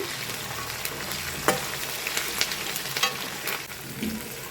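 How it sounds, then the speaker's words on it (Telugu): Onions fry in a pan with a steady close sizzle and crackle, broken by a few sharp clicks and scrapes of stirring; no one speaks. "ఉల్లిపాయలు అయితే కొంచెం ఫ్రై అయినాయండి"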